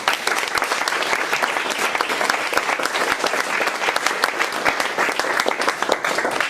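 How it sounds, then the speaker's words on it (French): An audience at an AI and education meetup in Lyon applauds its speakers, a steady, moderately loud round of many hands with crisp individual claps standing out across the whole stretch. "On peut les applaudir."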